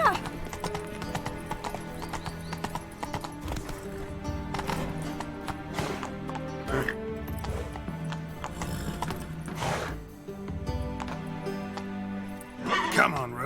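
Rhythmic hoofbeats of Geralt's horse Roach galloping in The Witcher 3, mixed with game music and occasional other effects, with a brief louder burst near the end.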